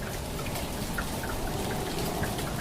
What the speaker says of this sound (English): the rain's still coming down